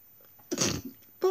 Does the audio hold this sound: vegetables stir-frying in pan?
no